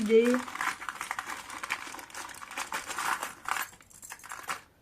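Small metal closure buttons and rings are handled and shuffled together, giving light clinking and rattling, close and fairly soft, in a short busy burst that thins out near the end.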